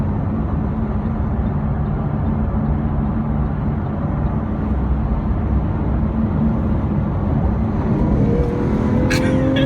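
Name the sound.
Lamborghini Aventador engine accelerating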